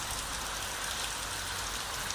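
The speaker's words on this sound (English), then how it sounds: "is the rain pounding at the streets" Rain pounding on city streets in the early morning, a dense, even wash of hissing splatter that fills the whole stretch at a constant level, with no voices.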